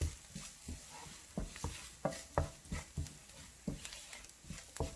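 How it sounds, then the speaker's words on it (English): Spoon stirring spices and cumin seed powder in a pan over a low flame, a series of soft scraping strokes in an irregular rhythm above a faint, quiet sizzle. "We will stir it all together, and the flame is low right now while we do this."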